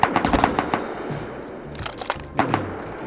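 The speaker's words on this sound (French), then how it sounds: "Je tire sur quelqu'un" Rapid gunfire in the survival game Rust, a burst of sharp cracking shots in quick succession, a pause, then more clustered shots, loud and close with no talking.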